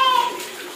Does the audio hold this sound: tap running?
yes